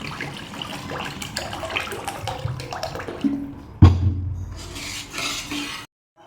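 Water poured into a pan of cooked masala for egg curry, a steady splashing pour that swells into a louder gush near the end, then stops abruptly, leaving silence.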